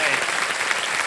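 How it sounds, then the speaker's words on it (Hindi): Studio audience applause on a televised quiz show stage, a dense, steady wash of clapping at full volume with no gaps across the whole short stretch. "तालियां बज जाए"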